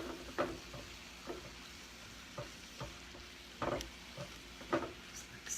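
Mushrooms stirred with about two teaspoons of balsamic glaze in a hot pan, a low steady sizzle broken by scattered scraping and clinking spoon strokes, close by with no talking.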